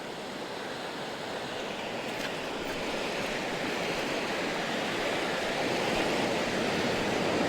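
Ocean surf at a beach in Baler at high tide, a continuous broad wash of breaking waves that builds slightly louder over time, with faint wind and no speech.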